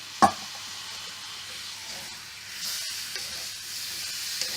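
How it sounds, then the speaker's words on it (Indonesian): Chicken marinated in yellow spices frying in cooking oil, with a sharp clatter at the start and then a steady, soft sizzle and hiss that grows a little louder and continues to the end. "Masak sampai dia berubah warnanya. Cook until chicken become well cooked."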